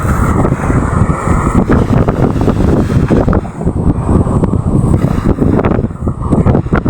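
A strong amihan monsoon wind batters the microphone in a continuous loud roar that swells and eases in gusts, with rushing water and waves beneath it near moored boats.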